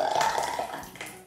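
Mushy liquid stomach mixture poured from a container through a sieve into a tube standing in for intestines, making a wet, gurgling slosh that runs steadily for about a second and then trails off.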